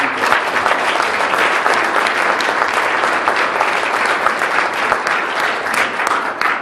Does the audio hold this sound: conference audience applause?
yes